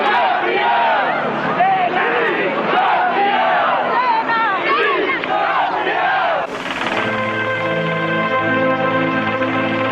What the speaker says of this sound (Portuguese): A multidão, aos poucos, se conforma e canta antes da última despedida ao campeão morto.